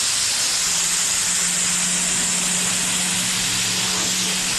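Spray primer hissing steadily onto a duckbill car trunk in a home garage, a continuous close-up aerosol spray that runs without a break and with no voices.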